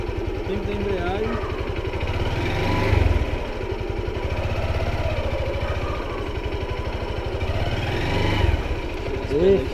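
A Fan 150 motorcycle engine idles and revs in steady putters while a rider practices the clutch, with swells of throttle and people talking over the running motor.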